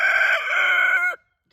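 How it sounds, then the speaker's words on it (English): A single loud rooster crow, sustained and harmonic, ending abruptly and followed by a brief silence. "deal with loudmouth roosters"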